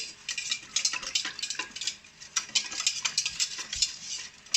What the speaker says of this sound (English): Now we're gonna mix up all the ingredients, which will take 2 to 4 minutes